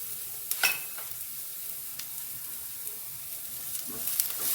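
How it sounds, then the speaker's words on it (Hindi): Onions and curry leaves fry in a pan while being stirred, a soft continuous sizzle broken by scraping and clinking ladle strokes, heard up close with no one speaking. "प्याज को भूनेंगे अच्छे से। साथ में ही कुछ कड़ी पत्ते डाल देंगे।"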